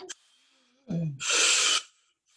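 Breathing exercise breaths, a short sharp inhale followed after a pause by a low voiced sound and then a long forceful rushing exhale, close and loud.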